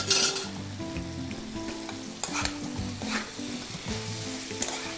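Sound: frying potato fingers in oil on high flame

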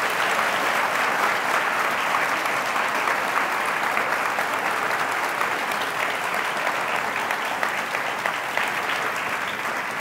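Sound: audience applause at a lecture

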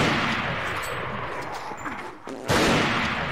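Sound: gunfire from a video game (Rising of Evil mod)

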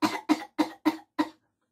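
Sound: unproductive cough

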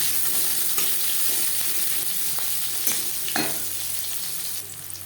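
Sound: sliced onion frying with cumin in pan

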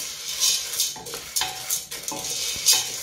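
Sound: stirring popcorn kernels in a dry pan

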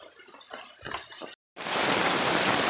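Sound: heavy rain

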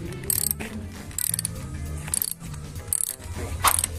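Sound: ratchet with 12 mm socket removing motorcycle headlight screws

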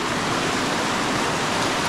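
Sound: flowing river current

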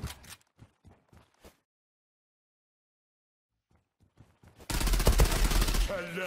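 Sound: Kriss Vector gunfire in a video game

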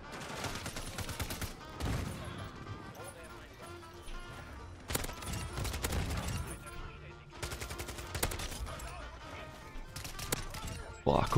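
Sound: pistol gunfire in video game Modern Warfare 2

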